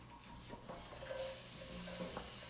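Raw onion dropped into a hot pan while cooking shrimp and faux grits, giving a soft, steady sizzle with faint stirring clicks, fairly quiet and continuous with no talking.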